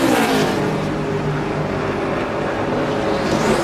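A Discover-sponsored stock car, driven by Jeffrey Bodine, eases past on the track at the 2002 Pennsylvania 500, with a steady, loud engine drone that holds throughout.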